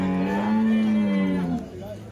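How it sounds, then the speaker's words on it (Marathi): At a busy cattle market, a cow lets out one long, close, loud moo that drops in pitch at the end, with faint crowd chatter in the background. "गाय बाजार बघा"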